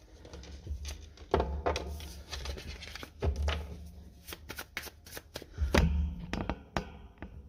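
Tarot cards are shuffled by hand in a quiet room, producing several rapid riffling bursts with soft taps and slides between them, close and moderately loud, with no speech.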